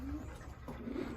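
Pigeons in an aviary while getting a bath, giving a soft low coo close by and a second brief coo, over faint background noise.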